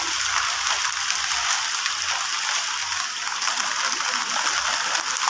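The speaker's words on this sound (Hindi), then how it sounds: "काफ़ी तेज़ की बारिश आ रही" Heavy rain pours steadily outdoors, a dense, constant hiss of drops hitting surfaces that stays loud and unbroken throughout with no voices.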